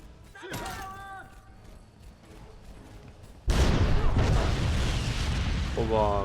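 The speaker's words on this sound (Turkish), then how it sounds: "Güzel patladı." Gunfire and a sudden loud explosion in the video game Crysis Remastered, followed by sustained rumbling debris noise, with a voice talking beneath the action.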